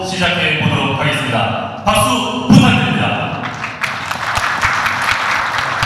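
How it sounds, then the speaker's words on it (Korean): Wedding guests applaud an opening musical performance at a wedding in Gwangju, with steady, dense clapping running the whole time under music and voices. "여러분들 큰 박수로"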